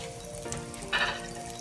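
Tuna chunks shallow frying in a pan for a creamy Alfredo pasta, a steady close sizzle with a brief louder crackling burst partway through, no talking.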